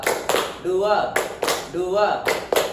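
Classroom pupils clapping together on command, sharp group claps in a short counted pattern, with a voice chanting the count between the bursts.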